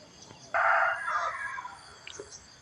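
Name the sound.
rooster crowing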